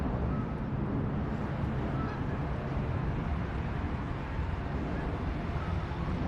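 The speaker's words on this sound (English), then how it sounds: "There's certainly some ducks." Ducks honk and call amid a dense, steady outdoor rumble with a plane passing, a voice faintly present in the background, at the Tidal Basin waterfront.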